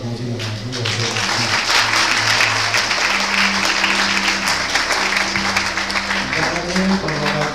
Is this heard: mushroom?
no